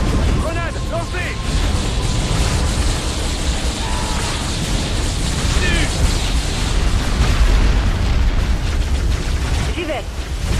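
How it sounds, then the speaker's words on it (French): Grenade explosions in the Halo Wars strategy game, a continuous rumbling barrage of booms and blasts with a voice speaking briefly amid the battle noise. "Grenade lancée."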